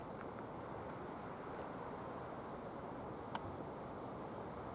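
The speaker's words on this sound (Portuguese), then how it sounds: "Ei, grilo." Cricket chirping outdoors at night under a full moon: a faint, steady high trill that runs unbroken throughout, with a soft brief click near the end.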